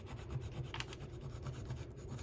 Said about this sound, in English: just kind of keep rubbing until you see it kind of sticking